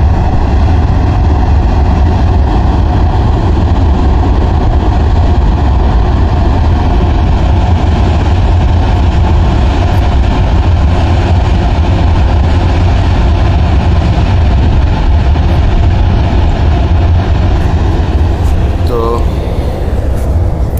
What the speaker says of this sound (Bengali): ওই দেখুন ব্রিজের উপর থেকে ট্রেন যাচ্ছে,